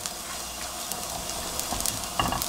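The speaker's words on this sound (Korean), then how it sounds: "멸치 사이사이에서 기름이 바글바글 거품이 일듯이 이렇게 볶아지거든요" Dried anchovies stir-frying in plenty of oil, a steady bubbling sizzle with soft scraping of a spatula, growing louder and busier near the end, with no voices.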